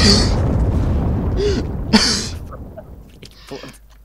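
A bomb detonates in a Counter-Strike: Global Offensive match, a loud booming burst near the start followed by a second sharp blast around two seconds in, then fading game noise and clatter.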